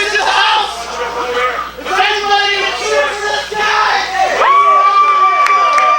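A wrestling crowd cheers and shouts in loud, overlapping waves, with children's voices and whoops rising and falling throughout, close and continuous.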